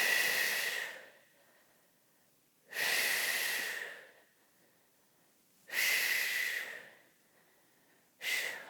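Sharp, breathy exhalations during a split-stance glute exercise, three close, strong breaths out at roughly three-second intervals with quiet pauses between, no talking.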